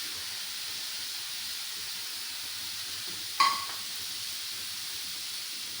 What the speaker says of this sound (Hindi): अब मैं इसके अंदर चॉप किया हुआ टमाटर ऐड करूँगी।